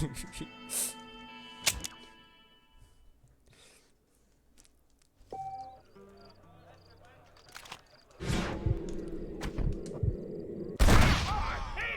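Gunfire in the Western video game Red Dead Redemption: a few sharp, loud shots near the start with ringing tails, followed by quieter stretches and later bursts of louder game sound and talk.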